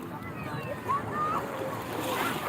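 Waves at Ancol beach in Jakarta make a steady washing roar with wind noise, while voices and other beach sounds are faintly audible over the surf.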